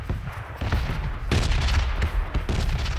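Artillery fire in the battle game PUBG: heavy booming blasts and rapid volleys roll in loud and close, with sharp bursts near the start and around the middle over continuous rumbling gunfire.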